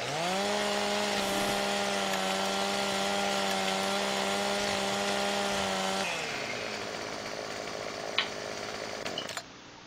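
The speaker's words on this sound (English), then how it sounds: "get this noisy chainsaw on again" A chainsaw in a farming video game runs at a steady high-revving drone, then drops lower and rougher near the six-second mark, with a brief click toward the end.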